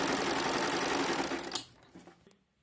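Household sewing machine stitching a small saree for a five-year-old child, with a fast, steady whirring run that stops abruptly after about a second and a half, followed by a few faint clicks and then silence.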